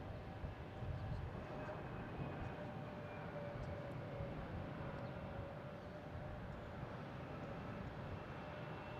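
An American Airlines airliner on the short runway at Boston Logan International Airport, a steady distant jet-engine roar holding level throughout under faint background noise.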